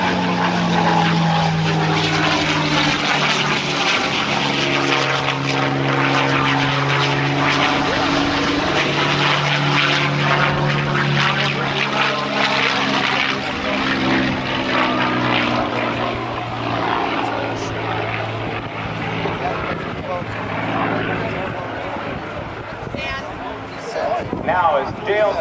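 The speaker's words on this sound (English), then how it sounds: "Now as Dale climbs away, the P-51 Mustang had an incredible run, seeing combat not only in World War II" A P-51 Mustang propeller fighter roars past at an airshow, its loud piston engine drone swelling and shifting pitch as it passes overhead and climbs away, with a commentator talking over it throughout.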